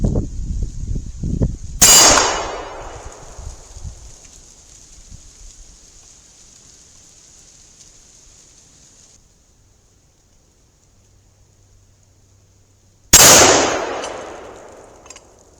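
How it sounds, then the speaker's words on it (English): Two sharp, loud rifle shots sound about eleven seconds apart outdoors, one from a .223 and one from a .30-06 Springfield, each ringing out with a long fading tail and a faint metallic ring, followed by quiet ambience. "And one shot from the 223,"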